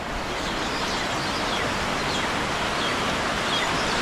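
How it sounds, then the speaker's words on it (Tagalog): Steady rain from an approaching typhoon in the mountains hisses evenly throughout, a constant broadband wash of sound with no distinct drops standing out. "Ulan na naman. Nagsimula na yung bagyo."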